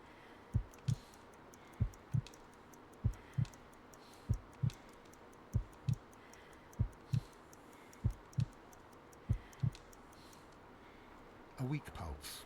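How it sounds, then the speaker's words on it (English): Slow, steady heartbeat thumps in the Sherlock Holmes: Crimes & Punishments video game, about a dozen paired low beats at an even, sluggish pace with no voices over them, ending in a brief burst of other noise. "I need to concentrate and count the heartbeats."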